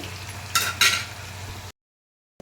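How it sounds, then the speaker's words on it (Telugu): Onions frying in oil are stirred in a pan, a steady low sizzle with two brief scraping strokes near the start. The sound cuts off sharply, leaving a short silence. "ఉల్లిపాయలు బాగా వేగిపోవాలి ఆయిల్ తేలింది కానీ ఇంకా ఉల్లిపాయలు కొద్దిగా మగ్గిపోతే బాగుంటుంది"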